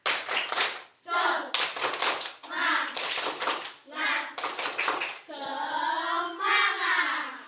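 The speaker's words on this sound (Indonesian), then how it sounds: "sekarang kita tepuk semangat dulu ya" Schoolchildren in a classroom perform a rhythmic spirit clap, loud bursts of patterned hand claps alternating with their chanting voices in a call-and-response cadence.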